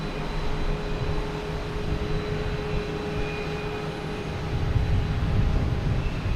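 A passenger aircraft at Boston Logan Airport gives a steady, broad engine roar with faint tonal whine, holding even and then swelling slightly louder toward the end, with no voices.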